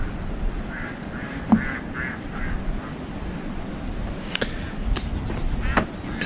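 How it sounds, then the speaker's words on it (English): Ducks quack on a goat farm in Iowa on a January day, a few soft, scattered calls at a distance over constant outdoor ambience. "It's a little like camping with Donald Duck, I guess, out here."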